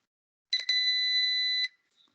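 A single steady electronic beep plays during a signals and systems lab, a clear tone lasting about a second that starts with a couple of quick clicks and cuts off abruptly, heard alone in silence.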